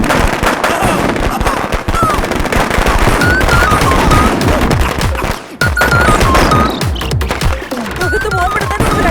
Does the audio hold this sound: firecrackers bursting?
yes